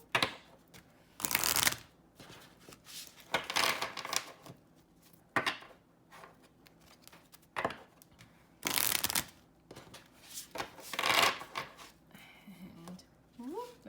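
Repeated bursts of a laminated oracle card deck being shuffled, riffled in quick rustling bursts with short pauses between, close by.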